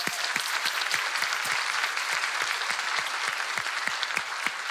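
Audience applause for a Brazilian singer-songwriter on a music-themed talk program, a steady dense wash of many hands clapping throughout, fairly even and unbroken, with no talk over it.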